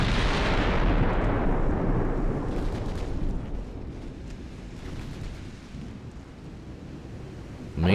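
Warship secondary guns fire in a naval battle game, a deep booming rumble that rolls and slowly fades, followed by softer distant thuds, with a sharp new blast at the very end.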